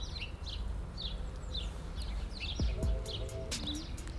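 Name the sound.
birds singing in a forest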